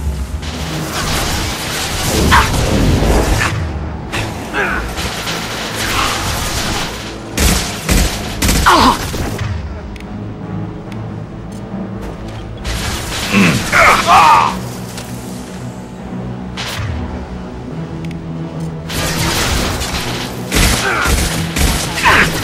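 Mass Effect 2 combat with loud bursts of gunfire, heavy booms and whooshing weapon sounds in repeated volleys, with game character voices calling out between the shots.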